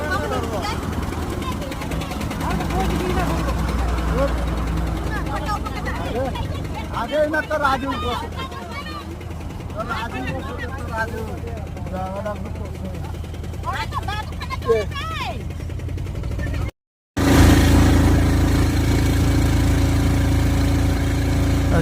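An auto rickshaw engine drones steadily throughout a morning ride in India, with passengers talking over the rumble. The drone breaks off briefly, then returns louder.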